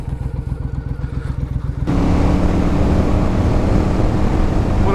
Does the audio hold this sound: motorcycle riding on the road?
yes